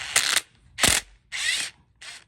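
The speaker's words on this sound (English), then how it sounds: "I'm just going to set these screws in there" Wood screws driven into the wooden floor of a cargo trailer from underneath, heard as four separate bursts of a whirring, ratcheting drive, each lasting under half a second, close and fairly loud.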